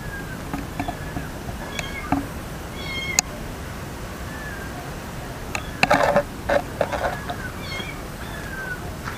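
A kitten meows at night in a cemetery, giving several short, thin cries scattered across the stretch, some faint and some a little closer, over a quiet background.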